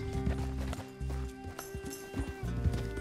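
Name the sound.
horse hooves in a video game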